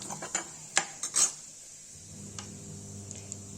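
Cumin seeds go into a small amount of hot oil in a pan while cooking a Kashmiri lauki yakhni, with a few metal clinks of pan and utensil, then a low steady sizzle, close and fairly quiet.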